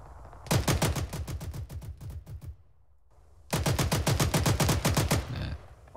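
Two long bursts of rapid automatic gunfire in Arma 3 on Altis, loud and close, broken by a short quiet pause, with no talk.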